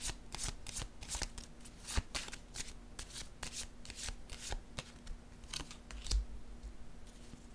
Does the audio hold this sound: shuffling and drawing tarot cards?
yes